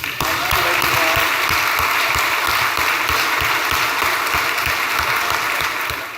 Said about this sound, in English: I'm going to ask you to clap twice